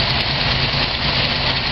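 A car engine idling after a cold start, a steady low rumbling drone, close and even, with no voices.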